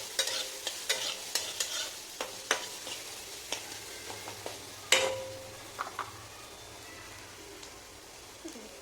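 Finely chopped onions stirred in a frying pan with chickpeas, a soft sizzle under repeated sharp scrapes and taps of a spoon against the pan, one louder knock midway, no talking.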